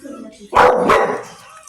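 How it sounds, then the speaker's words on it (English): A pitbull gives two loud, close barks in quick succession, with a voice speaking around them. "This dog acting crazy."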